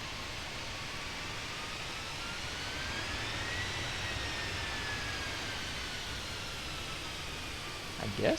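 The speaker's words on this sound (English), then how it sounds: "So shut engine number 2 down." Jet engine of a Fenix A319 with CFM engines in Microsoft Flight Simulator spooling down after shutdown at the gate: a steady broadband whine and rush with a faint falling tone, fairly constant throughout.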